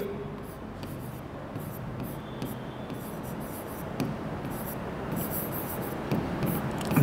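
Marker or chalk scratching on a board in a physics lesson, made of short strokes and squeaks in an uneven rhythm. The writing is close and moderately quiet, with no talk over it.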